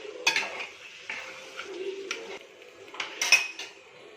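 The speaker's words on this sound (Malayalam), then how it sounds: "എന്നിട്ട് നല്ലോണം ഇളക്കി യോജിപ്പിച്ചിട്ടെടുക്കുക." A spoon stirring chicken curry in a pan, with scattered metallic clinks and scrapes over a faint low sizzle, quiet and close with gaps between strokes.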